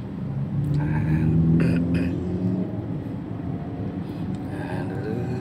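A car engine drones steadily while the vehicle is driven on a road, rising briefly as the driver gives more throttle, then settling back to a continuous hum; a voice speaks over it.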